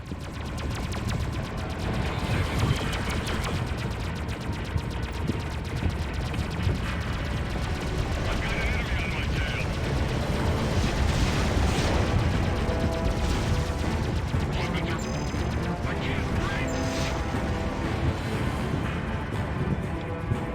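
Enemy ship guns firing in the space game Freelancer: a continuous rattling stream of rapid energy-weapon shots with mechanical clatter, steady and loud throughout, and no talk over it.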